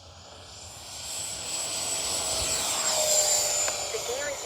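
A HobbyKing FlyCat V2 RC jet flies on high rates with a thin, high whine that swells gradually as it passes, over a broad airy rush.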